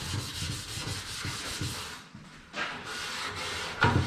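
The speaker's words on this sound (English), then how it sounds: "you just can't get the sandpaper down in certain areas" Sandpaper rubbed by hand on a surface, close, quiet scratchy strokes in a steady back-and-forth rhythm, a short pause midway, then a few more rubs and a light knock at the end.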